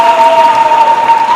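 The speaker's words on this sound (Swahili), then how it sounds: "Pigieni Mungu makofi na vigelegele." A church congregation at a Catholic Advent Mass claps and ululates: a continuous, loud, dense patter of hands with a sustained high trilling cry riding over it.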